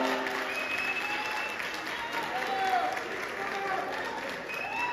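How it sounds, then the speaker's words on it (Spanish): An audience in a discotheque claps for a performer during a stage show, a moderately loud wash of applause with crowd noise. Faint tonal sounds from the venue run underneath. "fuertes los aplausos para Ángel Toro"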